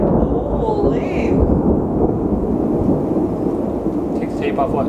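Thunder from a lightning storm rolls as a continuous deep rumble close by, with brief faint voices in the background.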